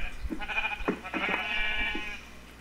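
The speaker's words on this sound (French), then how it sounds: "Oh, du mouton." Sheep bleating in Minecraft on the Paladium server, a couple of loud, close, wavering bleats in quick succession with no talk over them.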